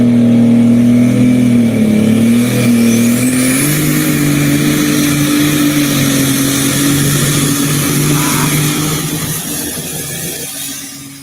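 A pulling tractor engine revs hard, strong and near, its low drone climbing in pitch and holding steady before slowly fading toward the end, with no talk.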